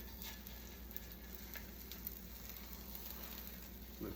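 Eggs cook in a hot pan, giving a constant soft sizzling hiss at low level with faint crackles and no clear voice.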